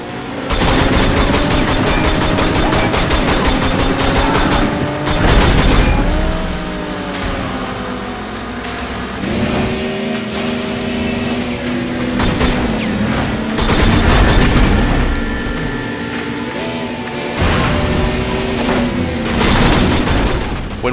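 Sleeping Dogs driving sequence with a car engine revving and shifting pitch alongside bursts of gunshots and impacts, loud and continuous with changing intensity and no talk.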